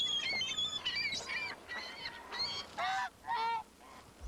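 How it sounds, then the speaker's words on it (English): Canada geese honk repeatedly in a loud, uneven series of nasal calls, some overlapping, with no voices. "The big ones are Canadian geese. They're the biggest geese."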